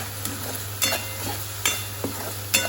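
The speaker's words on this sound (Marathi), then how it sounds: "हे बघा, हे चांगले परतवून घ्यायचे आहे." Spices being sautéed and stirred in a pan for a Malvani prawn curry, with a steady low sizzle and a few scraping stirs of the spoon against the pan.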